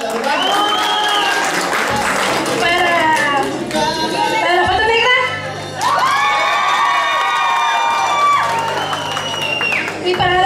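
Wedding guests applaud and cheer for four participants at a reception, a loud steady burst of clapping with whoops and shouts, while voices and music-like tones carry on throughout.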